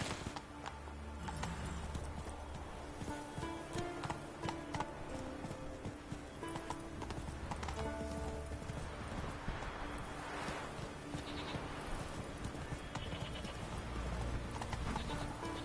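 Hoofbeats of a galloping horse in the video game The Witcher 3 pound on steadily in a fast, rolling clip-clop rhythm, with game ambience and music underneath and no talk.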